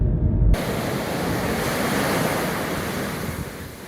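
Atlantic Ocean waves breaking on a beach in a small cove on the Ring of Kerry, a steady broad roar of surf with wind buffeting the microphone, continuous and fairly loud with no talk.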